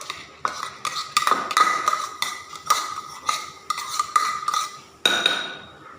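A pestle pounds dried chilies, shallots and soaked rice in a mortar to make curry paste, giving close, loud, hard knocks in an uneven rhythm, about nine strikes with short gaps between them.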